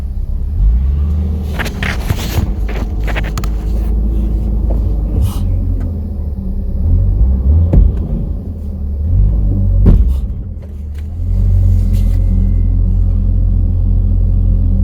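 A 1989 Jeep Comanche pickup rumbles steadily as it drives around a yard, its low engine drone continuous and close, rising in a few brief surges, with no talking.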